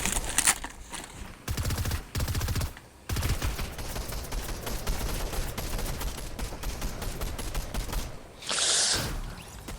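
Rapid gunfire aimed at the player in a video game, long bursts of dense machine-gun-like shots broken by short pauses, loud and close, with a sharp high crackle near the end and no talk.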